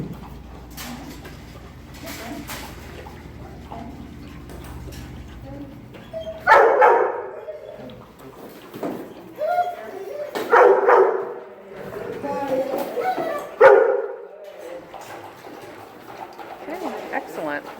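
Dogs in a kennel of about 25 at feeding time bark and yip in short bursts, fairly close, mixed with clanking and people talking.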